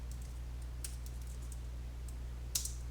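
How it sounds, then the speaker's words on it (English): Quiet clicks and taps on a computer keyboard come in a few short bursts, with a louder cluster near the end, against a low steady hum. "let's type Rails G controller"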